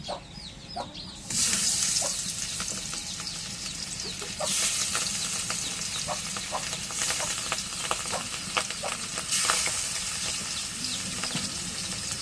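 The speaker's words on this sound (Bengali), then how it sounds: "এখন তেলটা গরম হয়ে গেছে মাছটা দিয়ে দিই" Fish going into hot oil sets off a burst of loud sizzling that stays steady, with sharp spits and crackles. Chickens cluck nearby in the background.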